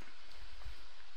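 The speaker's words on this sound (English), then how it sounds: "Obviously it's raining." Steady, even hiss of video game rainfall in CraftFactory with soft low rumble underneath, continuous throughout and without talk.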